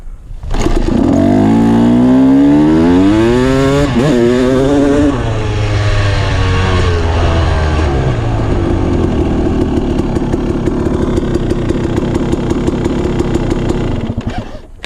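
A motorcycle fitted with a Rekluse Radius X clutch fires up in second gear without the clutch lever, the engine catching and revving in rising sweeps, then settling into a steady, loud, close running note for the rest of the clip.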